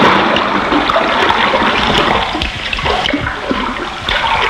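A cartoon walrus dives under a ship with a sustained watery rush and splash, loud and close, churning for several seconds before easing off.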